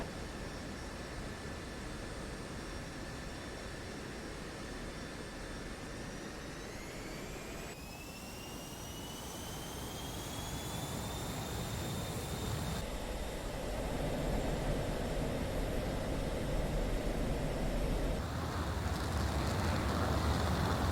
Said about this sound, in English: Now I'll see if I can do a cinematic takeoff again.